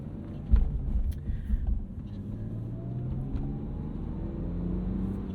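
A manual BMW E46 323i sedan with a 2.5 liter inline six and 364,000 miles drives along with a low, steady, fairly quiet engine rumble and road drone, and a brief bump of louder rumble near the start.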